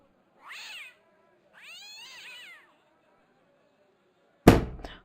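A cat meows twice, two drawn-out, wavering cries close by with a pause between, followed by a sharp sudden bang near the end; no talking.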